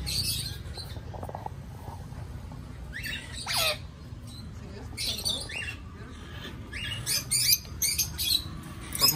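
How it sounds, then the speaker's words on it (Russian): Parrots chirp and squawk from an aviary on a Maldives island, in scattered high bursts over steady outdoor background noise, with people talking. "Попугаями. Чирикают."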